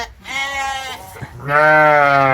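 Sheep crowded into a sheep shed during rainy weather bleat loudly and continuously at close range, one long drawn-out call followed by another strong, sustained bleat.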